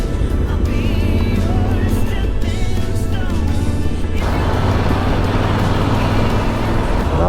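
Steady Italian city traffic rumble with engines idling and passing, a busy roadside din that stays loud and constant throughout.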